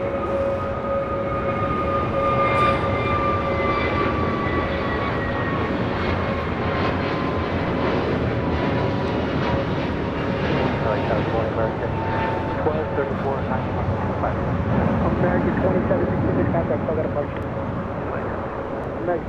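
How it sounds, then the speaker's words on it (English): An American Airlines A321neo jet climbs away on departure toward Dallas Fort Worth at LAX, its steady broadband engine roar and whine sustained throughout, fairly close and loud. "That flight, by the way, taken off was American Airlines Flight 2766 heading to Dallas, Fort Worth, Texas, in an A321 Neo"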